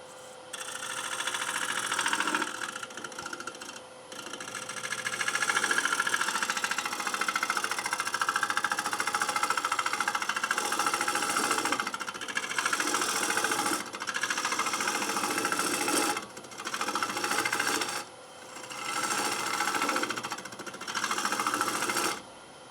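Wood lathe hollowing an applewood crotch bowl with a bowl gouge, a continuous loud grinding, scraping drone with brief dips where the cut pauses, no talking.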